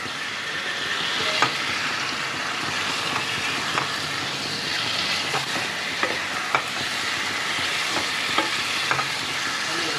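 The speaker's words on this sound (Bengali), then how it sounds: "চিকেনটা দিয়ে হাই ফ্লেমে মশলার সাথে ভালো করে মিশিয়ে খানিকক্ষণ ভাজতে হবে।" Chicken fries with spices in a kadai over high flame, a loud continuous sizzling hiss with scattered spatula scrapes and knocks as it is mixed, no speech.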